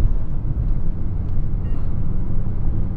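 A Nissan Magnite hatchback accelerating hard through the gears in a 0-100 km/h run, heard as a steady, loud low-frequency engine and road rumble that stays constant with no talk over it.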